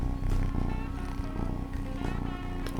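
A kitten purrs up close in a continuous rhythmic rumble that pulses steadily throughout and stays fairly loud, with no talking.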